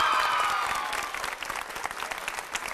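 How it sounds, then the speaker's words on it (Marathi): Applause from a studio audience at a Marathi home game show, a dense burst of clapping that starts loud and gradually thins and fades, with no one speaking over it. "एकदा जोरदार टाळ्या."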